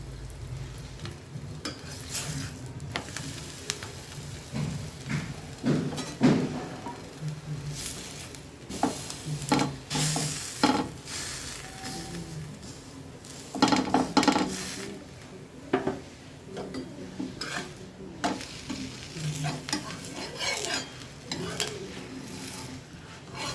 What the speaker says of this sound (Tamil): எண்ணெய் இப்போது சூடானதும் நம்ம பரோட்டா போட்டுக்கலாம்.